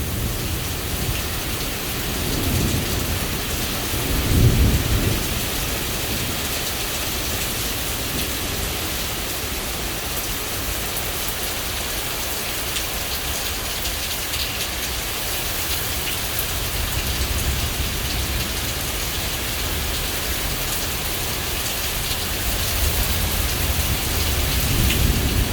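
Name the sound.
heavy rain with thunder during severe thunderstorm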